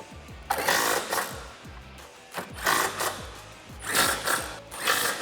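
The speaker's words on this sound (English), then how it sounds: "Grab your 13 socket and tighten them down." A ratchet fitted with a 13mm socket tightens the strut tower brace nuts on a 2011-2014 Mustang GT. Repeated rapid clicking comes in several close, loud bursts with short pauses between them, and no one speaks.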